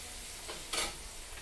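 Vegetable curry fries in a home kitchen pan with a faint, steady hiss and crackle, and a brief stir or scrape rises out of it. The sizzle stays quiet and continuous, and no one speaks.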